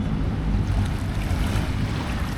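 Sea waves wash in at high tide on Manila Bay's Dolomite Beach, a steady, broad rush of surf mixed with wind noise on the microphone.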